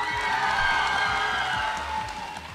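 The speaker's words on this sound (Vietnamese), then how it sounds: "Xin quý vị tiếp tục dành cho họ một tràng pháo tay thật nồng nhiệt ạ" Audience at a televised teen contest final in Vietnam applauds steadily, a sustained wash of clapping and cheering from a crowd in a hall.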